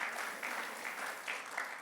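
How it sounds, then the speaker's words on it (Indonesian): A church congregation at a Sunday worship service gives a sustained round of applause, a steady, moderately distant wash of clapping in soft rhythmic surges. "mari tepuk tangan yang panjang bagi Tuhan Yesus"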